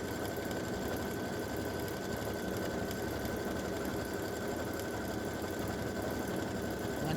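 An embroidery machine stitches a hummingbird and hibiscus edge-to-edge quilting design, a steady, continuous mechanical whir with a rapid needle rhythm, close and unbroken throughout.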